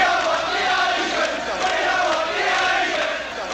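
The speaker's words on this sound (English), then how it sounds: "British crowds chanted" British street demonstrators chant in protest as a dense, sustained crowd roar, many voices blending into a steady loud mass throughout.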